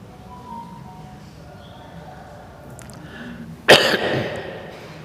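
After a few seconds of quiet room noise, a single sharp, loud cough bursts out close by and trails off briefly, from a person who has had a cough for about a week.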